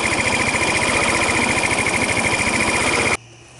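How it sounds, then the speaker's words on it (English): Idling 50cc GY6 scooter engine with a 47mm Glixal big bore kit, running low and sputtery: a loud, close, rapid pulsing rattle with a buzzing whine for about three seconds, then it stops abruptly and only faint background remains. "I want to bring the idle up a little bit. That's pretty low, it's like a sputtery low."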